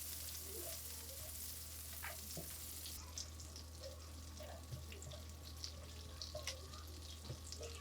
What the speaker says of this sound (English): Heat a pan and melt 4 tablespoons of unsalted butter.